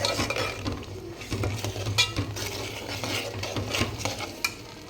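Coconut masala fries for a Savaji mutton gravy as a spatula stirs and scrapes a metal pan, producing busy clinking and scraping strokes over a low sizzle and a steady background hum, close up.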